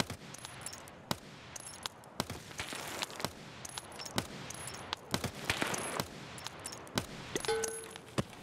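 Scattered sharp gunshots in the video game Escape from Tarkov, single bursts roughly every second, with metallic clinks and a faint beep in between.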